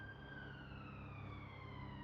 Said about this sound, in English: Can hear still hear ambulances.